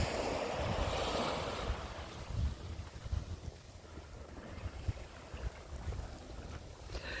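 Calm sea washing onto the Odesa shore under strong wind, a broad hiss of surf and gusting wind noise, louder at first, then softer rolling wash with low thumps of small waves.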